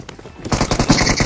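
Gunfire in a battle royale shooter at a military base, a shotgun in hand: quiet opening, then from about half a second a dense run of loud, rapid shots and impacts crowding together.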